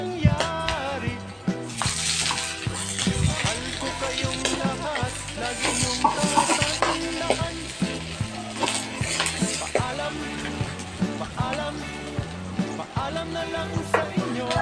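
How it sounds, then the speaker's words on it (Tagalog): Onion sautés with browned pork in a pan for pakbet. A steady crackling sizzle carries on with occasional utensil clinks, mixed under loud, continuous background music. "Dito na rin po ako magigisa ng aking mga pangsahog. So ilalagay ko na po dito yung sibuyas."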